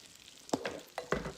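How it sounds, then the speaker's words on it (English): Sharp sizzling bursts as chicken pieces hit a hot frying pan for chicken piccata, three quick crackling hits in close succession, fairly near. "you can hear it sizzle as I put it in."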